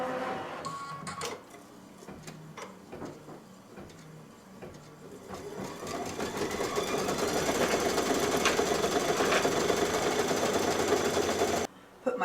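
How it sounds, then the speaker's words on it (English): Embroidery sewing machine stitching a placement outline for batting on a quilting project, a close, steady mechanical whir with rapid needle ticking that grows louder midway and then stops abruptly near the end. "Placement stitch for the batting."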